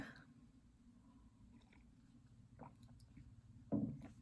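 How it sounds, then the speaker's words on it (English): A quiet sip or slurp from a drink near the end, with faint mouth sounds before it against low background hum. "Let me get a sip."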